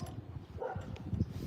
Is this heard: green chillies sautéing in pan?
no